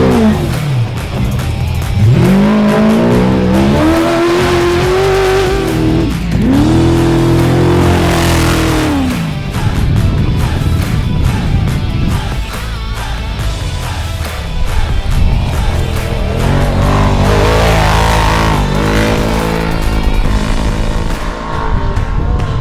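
A race truck being prepared for a Baja run roars past at speed, its engine revving hard and climbing in pitch, then rising and falling again as it passes close and loud, with continuous heavy engine drone throughout.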